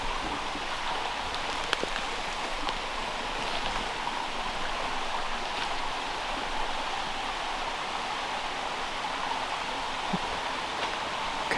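Brook water flowing past a sharp bend on a hike in the Highlands, a continuous broadband rush that stays even and moderately loud throughout, with no talk over it.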